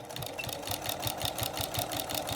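A sewing machine stitches through quilt layers while piecing a square-in-square block, a fast, even mechanical chatter of needle strokes, close and moderately quiet, with no voices.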